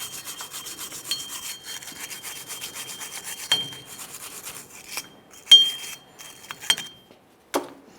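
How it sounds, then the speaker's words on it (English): Wire brush scrubbing a Dodge Ram axle hub during a rear brake job, a rapid rhythmic rasping scratch of bristles on metal, close and fairly loud, broken by pauses and a few sharp metallic clinks. "You can use a wire brush if necessary."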